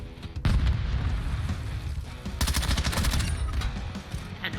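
Burst-fire MP5 in a video game shooter, rapid loud cracks in quick clusters over continuous battle noise, with a sharp report near the start and a dense run of shots toward the middle.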